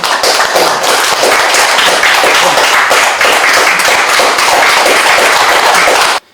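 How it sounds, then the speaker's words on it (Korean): A seminar audience welcomes a speaker with loud, dense applause, many hands clapping steadily and close for about six seconds before it stops abruptly. "큰 박수로 환영해 주시기 바랍니다"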